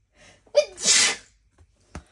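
A single sharp human sneeze, close and loud, preceded by a short inhaled gasp and followed by a faint sniff, in a quiet indoor setting.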